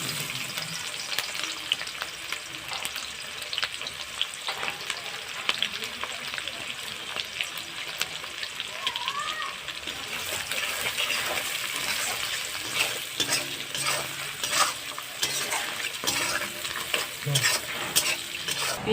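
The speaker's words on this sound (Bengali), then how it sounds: "পেঁয়াজটা ভাজা করে নিয়েছি" Chopped onion and green chilli fry in hot oil tempered with black cumin, a continuous close sizzle with occasional stirring scrapes in the pan, and a voice speaks now and then over it.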